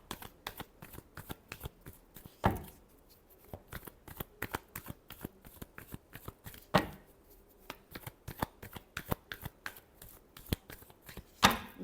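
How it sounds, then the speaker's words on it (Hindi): Tarot cards being shuffled by hand in a steady run of crisp riffling flicks, with a few louder slaps and bridges standing out, close and alone with no talking. "Last shuffle."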